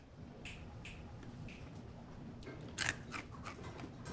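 Someone bites into homemade chocolate coconut granola, giving a few sharp, close crunches spaced out over a low background hiss, with a louder bite near the end.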